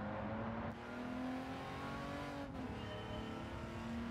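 A Maserati Merak in Gran Turismo drives with a steady engine drone that climbs in pitch through the gears, with two brief dips at the gear changes. It is loud and close, with no talking.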